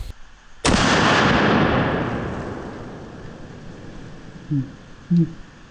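A single very loud hand-cannon shot from a Desert Eagle .50 AE or a .500 Magnum outdoors, with a sharp crack followed by a long rolling echo that fades over several seconds, then two brief muffled thumps.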